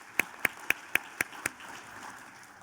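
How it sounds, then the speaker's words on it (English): A few sharp, evenly spaced claps ring out one after another, about six in all, fairly crisp and isolated rather than a full crowd's applause. "big round of applause"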